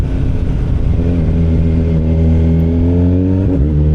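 Kawasaki Ninja 1100SX sport motorcycle engine while riding on the road, a loud, close, steady mid-pitched drone that rises in revs near the end, with wind rush and no talk.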